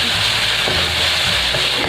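Chicken pieces frying in a pan for a pork chao fan topping, giving a steady, loud broadband sizzle with no pauses and faint stirring knocks underneath.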